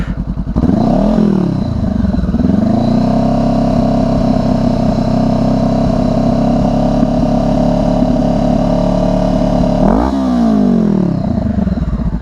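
A motorcycle fitted with a new exhaust revs up sharply and holds a loud, steady high-rpm drone around 4000 to 5000 rpm for several seconds before dropping and revving again, very close and with no speech.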